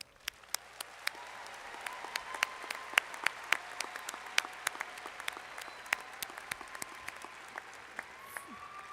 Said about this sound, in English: Please give our honors program graduates a round of applause.